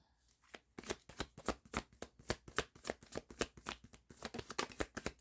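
Tarot cards are riffled and shuffled close by in a steady, rapid run of crisp slapping flutters that repeats without pause, with no voices.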